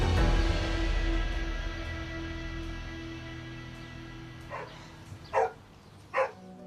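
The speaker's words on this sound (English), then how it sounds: "No one appears to be home, except an angry-sounding dog." An angry dog barks three times in quick succession inside a house, the sharp barks arriving near the end after a stretch of low rumbling background.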